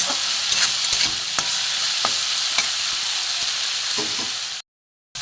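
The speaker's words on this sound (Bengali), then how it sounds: "একটু ভাজা ভাজা হোক, ভালোভাবে।" Spices sizzle loudly in hot oil in a pan for ghugni, while a spoon scrapes and knocks against the metal at irregular intervals. It cuts to silence just before the end.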